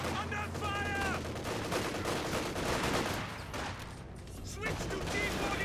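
G43 rifle fire in the World War II strategy game Company of Heroes 2, scattered gunshots and bursts of battle fire running beneath a commentator's continuous talk.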